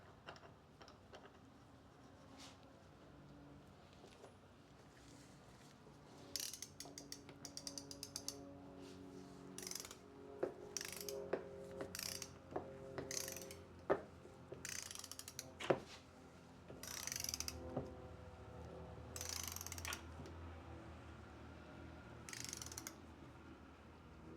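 A ratchet tightens the oil temperature sensor on a Jeep 3.6L V6 engine to 22 foot-pounds, giving bursts of rapid clicking pawl strokes and clanks against a quiet garage background.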